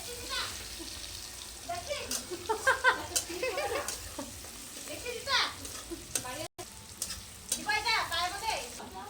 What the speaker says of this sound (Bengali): পেঁয়াজটাকে ভাজছে